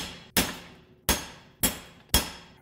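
Hammer blows on a steel punch driving against a seized wheel hub bearing assembly on a 2011 Subaru Outback 2.5: four sharp, loud metallic strikes, evenly spaced about half a second apart, each ringing briefly before the next.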